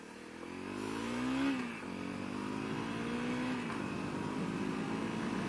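A stock Honda CRF250L dirt bike revs up hard while riding, the single-cylinder engine climbing in pitch, easing briefly, then holding a steady buzzing drone close by.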